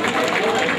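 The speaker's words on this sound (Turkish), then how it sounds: "Evet, yönetim kurulunu alkışlarla buraya davet ediyorum." A brief burst of audience applause welcomes the board at the opening of an Alevi cultural association, dense clapping from a close crowd with a murmur of voices mixed in.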